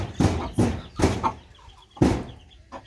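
Chickens clucking in short, loud bursts close by, with several separate calls and brief pauses between them.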